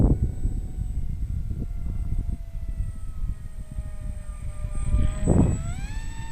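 A Graffiti Delta Wing RC plane with a 560mm wingspan flies overhead, its steady high motor whine holding an even tone and briefly rising in pitch near the end, with wind noise throughout.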